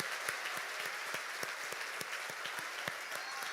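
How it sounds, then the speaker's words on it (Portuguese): Congregation at an evangelical church service applauding, steady rhythmic clapping with sharp distinct claps over a dense wash of hands, fairly faint and continuous throughout. "Pode aplaudir."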